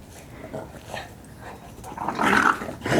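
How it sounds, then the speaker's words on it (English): Dogs playing rough, with low growls and whimpery snarls rising and falling, building louder toward the end, close by with no talk over them. "Daisy plays so rough with Waylon."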